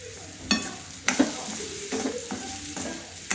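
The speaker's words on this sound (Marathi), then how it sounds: "आता ह्याच्यामध्येच मी मोठा रवा मिक्स करून घेणार आहे।" Coarse semolina being stirred and dry-roasted in a pan with a spoon, giving soft scraping strokes and faint sizzling crackle, with a few sharper clinks of the spoon against the pan at intervals.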